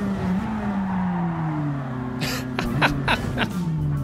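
A race car engine in Gran Turismo 7 holds a steady, loud drone, then dips and rises in pitch through several quick upshifts, with short bursts of tire noise.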